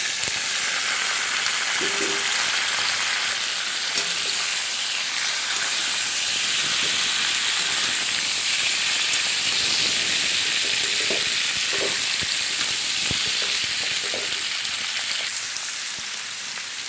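Washed chicken pieces tipped into a pan of browning potatoes, setting off a loud, steady sizzle and hiss of frying oil that runs on throughout, with a few faint clinks and stirring scrapes beneath.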